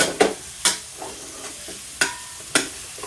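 Tomato, onion and garlic sauté in a pan with scrambled egg, a soft steady sizzle broken by four or five sharp scraping stirs of a spatula at uneven intervals, close by with no talking.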